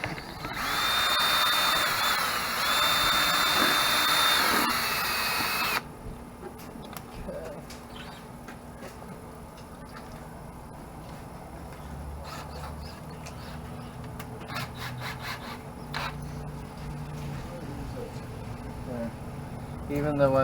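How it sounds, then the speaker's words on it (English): A power drill whines loudly for about five seconds while driving a self-tapping screw into a plastic headlight during a budget headlight repair, then stops, leaving quieter background noise with faint handling sounds. "even though I drilled a hole, I'm still using a self-tapper"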